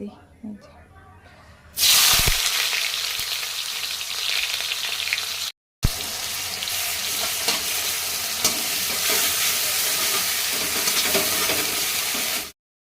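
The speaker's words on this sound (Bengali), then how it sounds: "পেঁয়াজ কুচি যেগুলো দিয়েছিলাম এগুলো লাল লাল ভাজা হয়েছে" Chopped onions and ginger-garlic paste hit hot oil with a sudden loud sizzle that carries on steadily as a close, bright hiss, broken by one brief silent gap, after a quieter stretch at the start.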